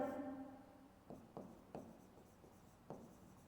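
Chalk or marker scratching on a board in a Class 10 science lesson, several short separate strokes following a brief faint tone, quiet and close.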